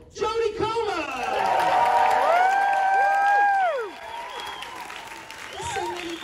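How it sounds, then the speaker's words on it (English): A packed London cinema audience at the Free Guy premiere erupts in loud sustained cheering, whoops and applause that swell, hold, then ease off, with a voice shouting through the crowd noise. "Please make some noise for the incredible Jodie Comer!"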